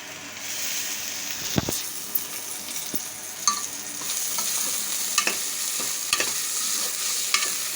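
Curry leaves fry in a pan with a steady close sizzle and crackle, broken by several sharp spatula scrapes and taps against the metal.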